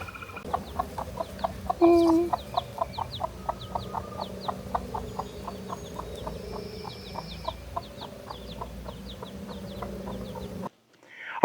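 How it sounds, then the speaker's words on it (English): Mother hen outdoors with her chicks, clucking steadily in a regular rhythm of soft, close clucks, with faint high peeps and one louder squawk near the start. "I'm out here with the mama hen. I let her out of the coop with the babies."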